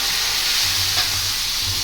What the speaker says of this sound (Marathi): असं चर करून आवाज यायला पाहिजे